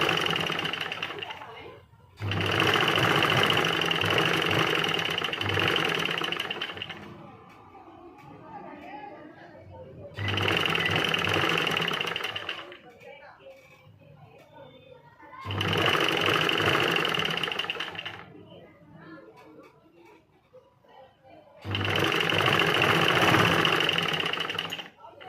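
A sewing machine stitches fabric in four long, loud bursts of rapid steady whirring, with quiet gaps between where someone talks softly.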